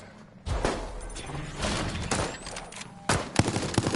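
Gunfire in Resident Evil Resistance, with several sharp shots and bursts cracking at irregular intervals over thuds and game noise, moderately loud and close.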